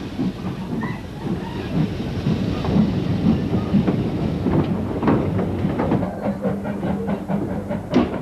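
A heritage train on the single-line Severn Valley Railway pulls away with a steady rumble. The rhythmic clickety-clack of wheels over rail joints grows sharper and more frequent as it gathers pace.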